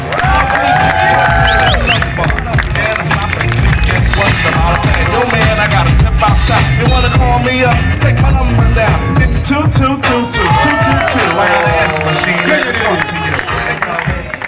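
A large crowd claps and cheers loudly for Csaba György at a slam dunk contest, sustained roaring applause with shouts and whistles, and an announcer's voice running over it.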